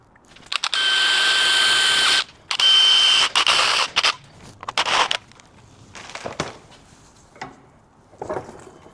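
A power drill bores holes through steel mounting plates on a 1934 Ford coupe barn find, with two long loud whining runs followed by shorter bursts and clicks in a workshop.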